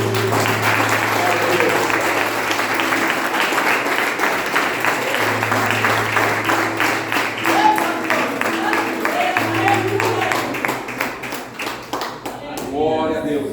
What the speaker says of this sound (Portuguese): E você aplaude o Senhor